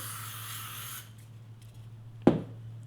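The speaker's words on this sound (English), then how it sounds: "Then you just spray that with hairspray." A steady hissing spray of hairspray for about a second, then quiet with a low hum, followed by a sharp clack near the end.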